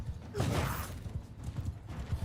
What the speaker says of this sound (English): my new horse is good at charging